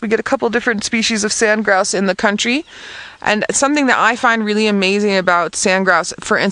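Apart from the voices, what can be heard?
None of the usual background noises is heard.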